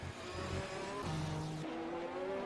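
F1 race cars in a racing video game, engines whining at high pitch and shifting through gears as they accelerate, steady and fairly close, with no talk over them.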